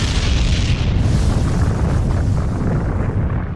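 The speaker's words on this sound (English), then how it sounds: "can someone explain to me how Reiner can eat that explosion but can't eat punches" A loud, sustained explosion from the Attack on Titan finale anime, a broad deep boom that rumbles steadily for several seconds with no talk over it.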